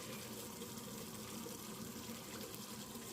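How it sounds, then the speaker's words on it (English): A pot of water for pasta boils steadily, giving a faint, continuous bubbling hiss that holds an even level throughout without breaks. "My water is boiling."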